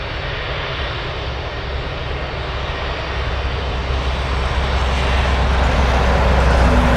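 An Atlas cargo jet at Anchorage airport gives a steady, loud roar of engines that swells gradually over seven seconds, with no voices heard.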